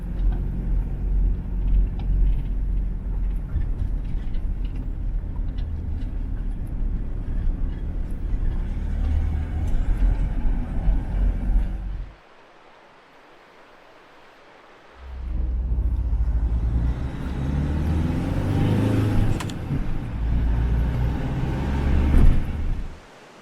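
Car driving up mountain roads in Greece, a steady loud engine and road rumble that drops out briefly midway before resuming at full strength, with no talking.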